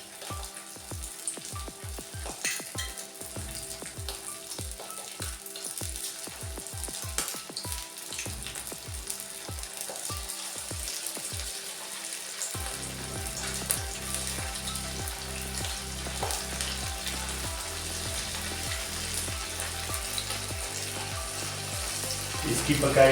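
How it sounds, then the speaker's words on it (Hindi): Boneless chicken pieces deep-frying in medium-hot oil, added one by one with a string of short splashy hits, then a steady loud crackling sizzle that fills the rest of the time with no one talking. "ऑयल हमारा दरमियाना गर्म है, ज़्यादा नहीं है। इसमें अब हम ये डालेंगे एक एक पीस करके"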